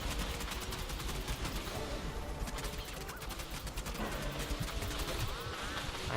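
Gunfire in the video game Gigantic, a dense, continuous rattle of rapid shots that carries steadily through the whole stretch at moderate loudness, with no speech.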